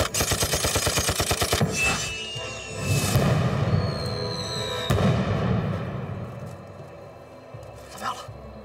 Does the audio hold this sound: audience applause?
no